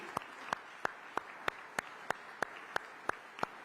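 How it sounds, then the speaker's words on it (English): Applause for Prime Minister Narendra Modi at the B20 India Summit 2023, heard as faint, evenly spaced sharp claps in a steady rhythm over a quiet hall. "Ladies and gentlemen, a big round of applause for Prime Minister Narendra Modi."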